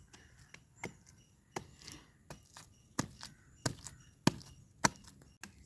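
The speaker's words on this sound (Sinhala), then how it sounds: "යාළුවනේ දැන් අපි මේක කොටන ගමන් ඉන්න අපි දැන් කොටමු." Ceylon olives (veralu) being pounded for pickle: about a dozen sharp, irregular thuds, each a close, crisp strike with brief quiet gaps, some blows noticeably harder than others.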